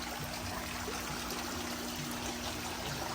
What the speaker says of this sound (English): So now it's strong enough and it's producing bubbles.